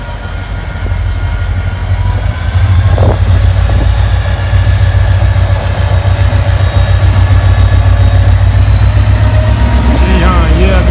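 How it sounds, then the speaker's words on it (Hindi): The Mehran Express train pulls out of Landhi railway station in Karachi, Pakistan, with a loud, continuous rumble of engine and rolling wagons, squealing wheels and a rising whine, while someone speaks over it. "ये अभी मेहरान एक्सप्रेस यहाँ से निकल गया।"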